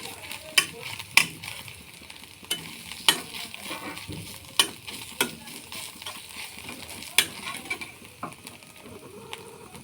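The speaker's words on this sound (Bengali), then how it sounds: "ঘি দিয়ে এখানে কাজু বাদাম বেটে রেখেছি এটা ভেজে নেব ভালো করে" Cashew paste fries in ghee for a besan-semolina sweet, a low sizzle under repeated sharp spatula taps and scrapes against the pan at an uneven rhythm.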